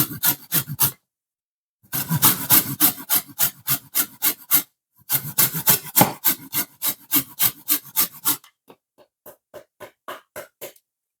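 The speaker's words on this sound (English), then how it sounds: "Next thing, I'm going to add some lemon zest in this." Lemon zest is grated by hand in rhythmic bursts of rasping strokes, loud and close, with short pauses between runs and fainter strokes trailing off at the end.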